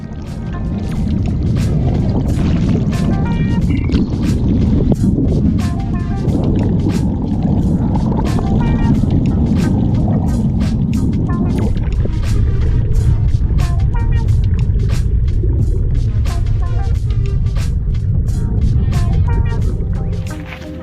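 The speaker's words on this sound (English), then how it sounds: "We turn the engine back on, then off, and then lock the shafts in reverse" A steady low boat engine drone runs continuously, loud and close, with splashing water and a shift in tone partway through as the shafts are run in reverse to test feathering propellers.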